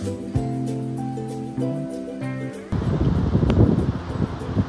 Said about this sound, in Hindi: यहाँ पर अचानक से इतनी तेज हवा आने लग गई